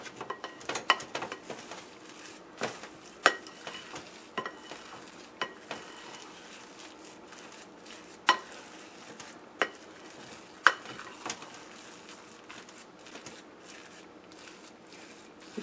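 Steady crackling sizzle of carrot fritter batter frying in hot oil, with scattered sharper pops and clinks of a utensil against a pan, close and continuous.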